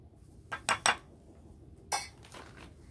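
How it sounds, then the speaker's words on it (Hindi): A spoon mixes neem powder face pack in a small bowl, making a few sharp clinks and scrapes in short bursts against a quiet background. "इसे अच्छे से मिक्स करेंगे नीम पाउडर को"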